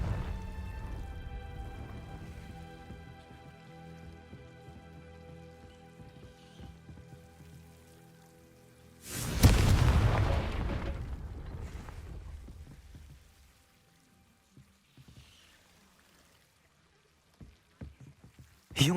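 Confringo, an explosive spell in Hogwarts Legacy, goes off as a single loud fiery blast midway and rumbles away. It follows a stretch of patter and tonal music, with quiet clicks after.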